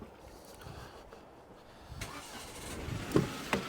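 A car engine runs at a quiet, low rumble beside a pub in the countryside, with rustling handling noise and a couple of brief knocks near the end, faint and fairly close.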